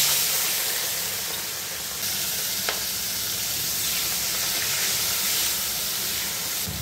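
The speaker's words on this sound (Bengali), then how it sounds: "এখন চিংড়ি মাছগুলো ভেজে নেব।" Prawns dropped into hot mustard oil in a heated wok sizzle loudly and continuously, a dense, steady frying hiss with no talk.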